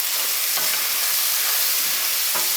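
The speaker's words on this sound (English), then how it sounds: "when you're browning anything, leave it alone. Let the pan or the skillet and the fire or the heat do their job" Sausage browning untouched in a hot skillet, giving a steady broadband sizzle throughout with a few faint soft knocks, close and continuous with no talking.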